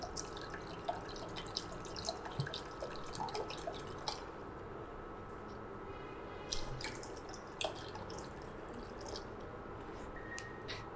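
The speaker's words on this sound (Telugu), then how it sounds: "నేను 2 కప్పులన్నర నీళ్ళు వేసాను" Water goes into a pot on the stove for tea, a steady soft wash of liquid with scattered drips and small splashes, low and close in a quiet kitchen.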